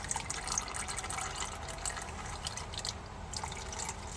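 Transmission fluid pouring and dripping from a loosened pan on a Jeep Grand Cherokee 4.7 V8, a faint, steady liquid trickle with scattered drips splashing close by.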